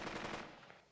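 Rapid squad gunfire from the World War II tactics game Burden of Command, a dense, loud burst of overlapping rifle and machine-gun shots that fades slightly toward the end, with no talking.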